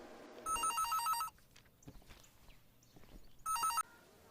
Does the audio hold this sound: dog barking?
no